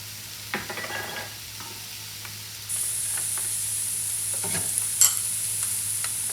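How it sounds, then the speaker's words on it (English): Garlic sautés in a pot for a big batch of chili, giving a steady close sizzle that swells after a few light stirring clinks, with no talking. "We're going to put our garlic in, each one, and go ahead and saute those in the center."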